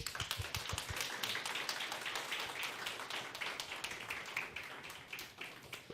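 A church audience applauding to welcome a guest speaker, dense sustained clapping from many hands at moderate distance, steady throughout.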